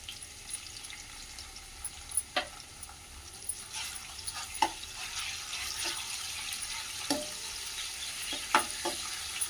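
Ginger garlic paste frying in a pan, a faint, steady sizzle broken by occasional clicks and scrapes of stirring, heard close with no voices.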